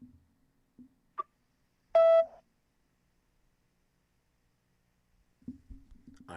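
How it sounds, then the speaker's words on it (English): A phone call going to a beep: a short, sharp electronic tone with a few faint clicks before it, then silence, and a voice starting near the end. "how the hell does this go to a beep?"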